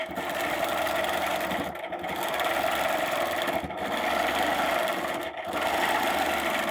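A sewing machine stitching arcs hums steadily and loudly up close, its run broken by three brief stops as the fabric is turned, with no talking.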